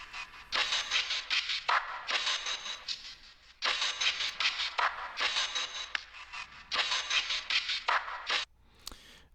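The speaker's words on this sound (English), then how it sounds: "So I added this perk loop." A percussion loop for a trap beat repeats a scratchy, noisy rhythmic pattern in bursts separated by short gaps. It plays fairly quietly with no one talking.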